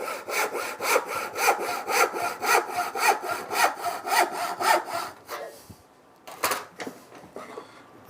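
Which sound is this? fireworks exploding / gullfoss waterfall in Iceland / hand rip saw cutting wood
hand rip saw cutting wood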